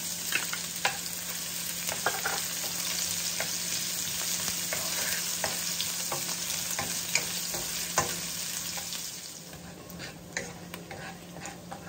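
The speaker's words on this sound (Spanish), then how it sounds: "vamos a dorar también esta cebolla que le vamos a poner a la salsa" Onion sizzles steadily in a hot pan, browning for a tomato sauce, with crackling pops and occasional ticks from stirring, the frying dying down slightly toward the end.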